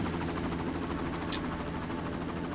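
A helicopter hovers in the first-person shooter Far Cry, its rotor and engine a steady dense drone with a faint whistle, heard alone without talking.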